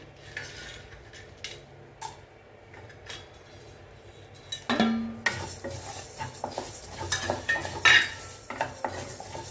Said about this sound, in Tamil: தனியா வறுத்துட்டு இருக்கும்போது ஏலக்காவை சேர்த்துக்கலாம்.